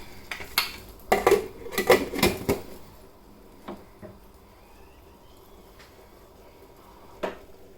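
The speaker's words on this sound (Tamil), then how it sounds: "இப்போ இதை வந்து நம்ம மூடிட்டு தோசைக்கல் மேலே மாற்ற போகிறோம்" A metal lid clatters onto a pot of mutton biryani as it is set on a dosa griddle, a burst of sharp clanks and scrapes followed by quieter scattered knocks, close by with no voices.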